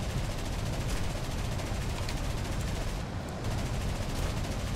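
Sustained machine-gun fire from rear gunners in the War Thunder video game, a continuous rapid clatter that is loud and close, with one brief lull just past the midpoint before the firing resumes.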